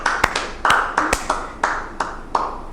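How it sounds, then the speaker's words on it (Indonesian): A small group of people claps for the students' parents: about nine sharp, separate hand claps in an uneven rhythm, close and fairly loud, each ringing briefly in a roomy space. "Kita berikan tepuk tangan yuk Pak buat orang tua siswa yang luar biasa ini."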